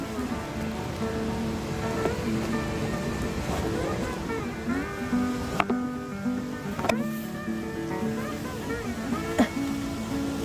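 Light drizzle with strong wind while picking mushrooms outdoors after work, a steady wash of rain and gusting noise throughout, with a few sharp knocks and rustles close by and a murmuring voice in the background.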